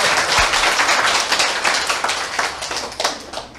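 Seminar audience clapping for themselves, a lively burst of dense applause with sharp individual claps standing out, close and loud, gradually thinning toward the end.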